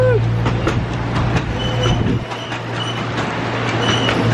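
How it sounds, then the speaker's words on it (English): A miniature choo-choo train ride at an amusement park rattles along, with steady clickety-clack of the wheels, a faint whistle-like tone and scattered crowd and park noise around it. "On the little choo-choo train."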